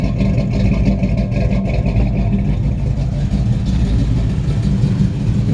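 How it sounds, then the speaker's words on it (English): A 1953 Ford F100 truck's engine runs steadily with a deep, throaty exhaust rumble, loud and close, holding an even idle throughout with no talking. "Got a nice sounding engine. Exhaust sounds really nice."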